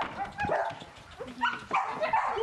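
Siberian Huskies outdoors in the Russian Far East, a team of energetic working dogs, giving several close, scattered barks and yips spread across the moment, mixed with whimpering.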